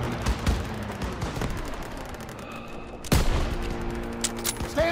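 Gunfire in the World War II shooter game Call of Duty: WWII, with sharp shots around the start and a heavy burst near the three-second mark over a dense, loud battle bed of continuous firing.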